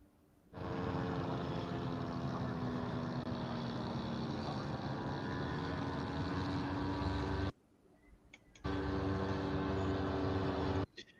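Model World War I airplanes, including a Sopwith Camel replica, fly overhead with a loud, continuous engine drone. The drone drops out for about a second, then resumes.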